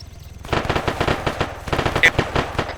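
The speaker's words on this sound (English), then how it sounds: "Gunshot." Rapid automatic gunfire in a military shooter video game, a dense burst of close, loud machine-gun shots rattling in quick succession after a quieter start.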